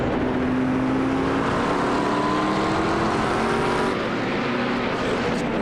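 A McLaren 720S GT3 race car engine in iRacing screams down the straight at Jerez, a loud, steady high-revving drone with the pitch climbing through gears, close and continuous.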